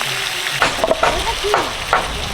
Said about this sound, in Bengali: তেল গরম হয়ে গেছে শুকনো লঙ্কা এলাচ লবঙ্গ দিয়ে দিলাম পেঁয়াজ কুচি টমাটম কুচি আদা রসুন ছাড়ানো দিয়ে দিচ্ছি